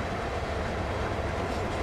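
Diesel locomotive engines idle in Train Sim World during yard switching, a steady low rumble with faint rail-car rattle running continuously, with no talking.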